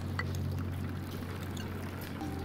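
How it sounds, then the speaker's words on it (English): Water leaks from a repaired reservoir in the video game Oxygen Not Included, a steady, close pouring hiss lasting throughout over a low constant hum. "a little bit of water will leak out as they're repaired"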